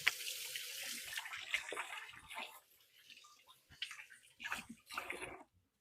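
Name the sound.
washing hands under running tap water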